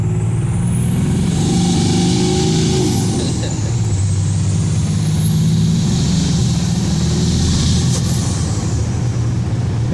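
A Ram pickup truck's engine roars loudly up close as it accelerates, its pitch climbing steadily before easing off as the driver lets off the throttle, with constant road and wind noise underneath.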